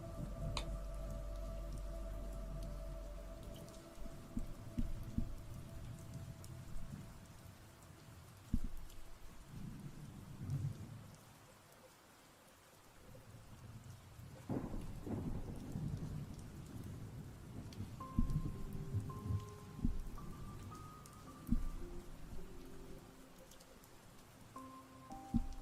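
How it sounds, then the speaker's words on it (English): Steady rainfall with rumbling thunder, a continuous patter on surfaces swelling and fading under low, rolling booms that come and go across the scene. "We're still on the rain ambience."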